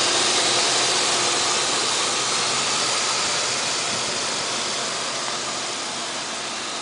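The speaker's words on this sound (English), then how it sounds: "Single overhead cam, 4-liter engine. Great working order. Runs like a champ." Steady broadband roar of a 2000 Ford Explorer Eddie Bauer 4WD with a 4-liter single overhead cam engine running, heard close and loud, constant and unbroken with no voices.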